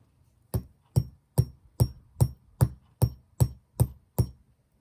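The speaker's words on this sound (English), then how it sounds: "then we do hammer it with our rubber mallet" Ten evenly spaced, dull thuds from a rubber mallet striking a wire bracelet form, steady rhythm, close and fairly soft, no voices.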